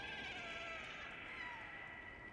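A cat in the video game Stray gives a drawn-out, fairly faint meow that wavers over a quiet background, heard alone.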